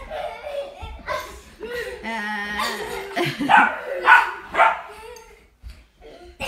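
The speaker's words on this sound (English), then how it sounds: "Puppy." A 12-week-old puppy barks and yips in a rapid, high series of bursts at close range, with people talking in between.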